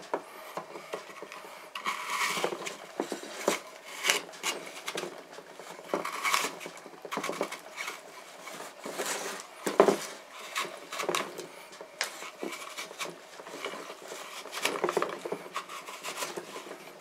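Dried sea salt is scraped off a surface in repeated rough strokes, a gritty rasping with uneven rhythm and occasional sharper scratches, close and without voices.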